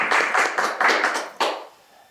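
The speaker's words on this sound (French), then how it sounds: "On applaudit." A small group claps briefly in a few quick bursts that fade out within about two seconds.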